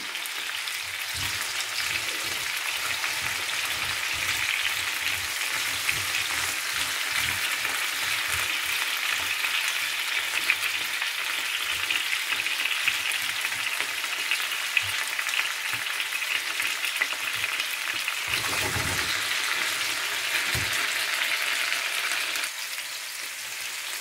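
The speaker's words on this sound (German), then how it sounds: "So circa 3-4 Minuten noch anbraten lassen." Chicken frying in a pan for a cauliflower and potato bake, a dense, even hiss and crackle sustained close by, with occasional soft stirring knocks underneath and no talk.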